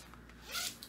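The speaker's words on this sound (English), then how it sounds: "And zip them right up, they're ready to go." Separating zipper on a stage costume being zipped up in one quick, faint rasping pull with a small tick at the end, heard close in a quiet room.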